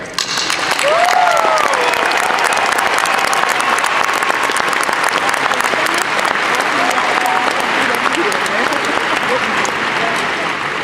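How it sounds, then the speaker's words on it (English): At a spring 2014 commencement ceremony for the Cockrell School of Engineering, a large audience applauds the faculty: loud, sustained, dense clapping filling the hall, with scattered voices and a few whoops mixed in. "Please join me in recognizing the faculty of the Cockrell School of Engineering."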